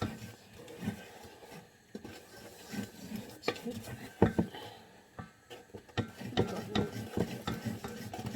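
A spoon folds thick low-fat chocolate brownie batter in a bowl, giving soft irregular scrapes and occasional clinks against the bowl, fairly quiet and close, with no talking.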